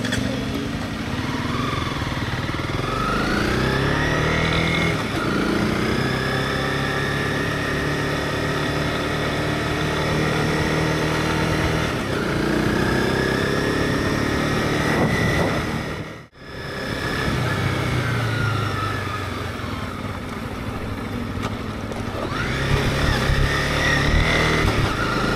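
Motorcycle engine running steadily while riding down a mountain road, a continuous close drone with shifting pitch as the rider changes speed, briefly dropping out once midway before resuming, with no voices.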